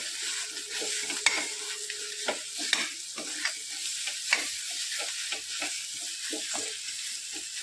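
Eggplant bharit is stirred in a pan over a steady sizzle, with a spatula scraping in regular close strokes and a few sharper clanks against the pan.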